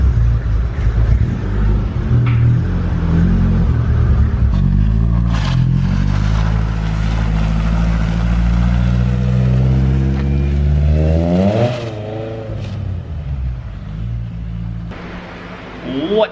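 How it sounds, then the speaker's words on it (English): A Nissan Skyline GTR R32 roars loudly inside a garage during a tire burnout, the engine revving up and holding high before dropping off, with a brief voice near the end. "Spin those tires. The garage burn out."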